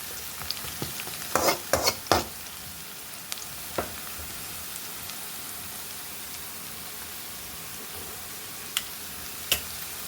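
Radish and chana dal curry frying in hot oil in a home kitchen, giving a low steady sizzle with a few sharp crackles and pops clustered early on, then sparse spits, close and moderately quiet with no talk.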